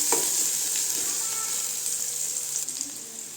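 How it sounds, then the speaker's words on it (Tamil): Onions sauté in a pan for a red amaranth stir-fry, giving a continuous close sizzle with faint stirring scrapes throughout. "வெங்காயம் நல்லா வதங்கட்டும்."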